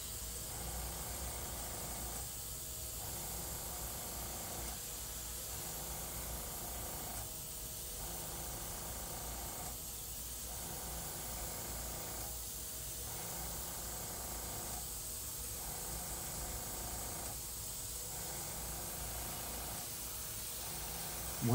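An airbrush sprays blue paint onto a custom Iron Man chest piece, giving a steady, soft hiss that dips briefly at regular intervals of a few seconds, with no talking.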